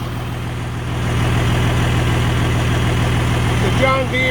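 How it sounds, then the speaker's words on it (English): The John Deere kicker motor on a 2003 Freightliner SC-8000 runs at a steady idle, a loud close hum that swells slightly after the first second, with a brief faint squeak near the end. "Here's the kicker motor."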